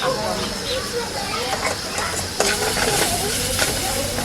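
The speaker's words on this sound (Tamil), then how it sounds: "கொஞ்சமாக உப்பு சேர்த்து வதக்கிக்கோங்க" Food sizzles and hisses steadily in a pan while being sautéed with a little salt, with a spoon stirring at intervals. A person talks over the frying throughout.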